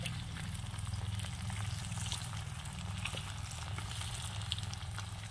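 Fish frying in a pan for a Kashmiri village-style fish and vegetable dish: a steady hissing sizzle with small popping crackles over a low hum, continuous and moderately close, no talk.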